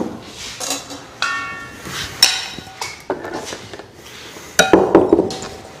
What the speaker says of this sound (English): we're going to scrape our cheese out of this blender